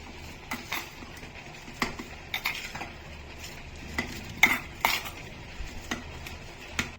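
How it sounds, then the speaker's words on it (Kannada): Garlic butter with coriander and salt is mixed in a bowl, giving soft scraping and clinking spoon strokes in an irregular rhythm, close and moderately quiet. "ಇದನ್ನ ನೀಟಾಗಿ ಮಿಕ್ಸ್ ಮಾಡ್ಕೋತಾ ಇದ್ದೀನಿ"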